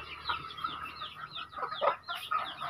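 Native chickens cluck and murmur in a faint, uneven run of short calls, heard from a little distance with no voices over them.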